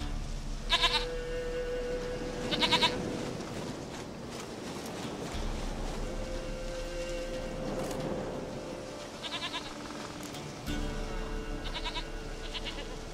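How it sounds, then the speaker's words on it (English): A goat in The Witcher 3 bleats repeatedly, several short wavering cries spaced a few seconds apart over a steady game ambience, with faint hoof-like steps and no talking. "Goat of mine! Dearest, sweetest goat!"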